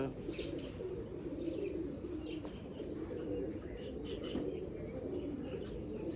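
Pigeons coo softly and steadily over a low, continuous murmur, with a few faint chirps and brief wing flutters; the birds sound close but quiet.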